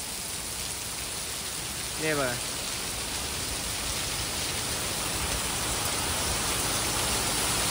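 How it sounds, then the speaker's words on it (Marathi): Heavy rain pours steadily at dusk, a dense, even hiss that fills the whole clip, with a man's brief spoken phrase near the start. "पाऊस बघा कसा जोरात पडतोय."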